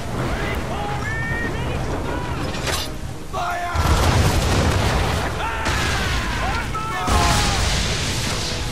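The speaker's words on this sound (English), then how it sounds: "Reload those cannons." Heavy booming cannon blasts go off repeatedly in Assassin's Creed 3 amid clanking mechanical noise, with bursts of shouting voices and whistling tones layered over the din.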